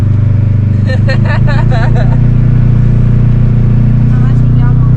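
A Can-Am off-road vehicle runs on a trail during the Rangely, Colorado off-road adventure rally. Its engine makes a loud, steady low drone throughout, and voices talk over it.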